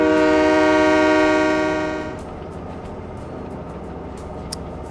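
A train horn blares loudly over rumbling rail noise in Train Mechanic Simulator 2017, holding for about two seconds before cutting off, leaving the steady low roll of a passing train.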